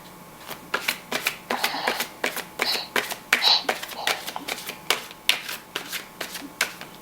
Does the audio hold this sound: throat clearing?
no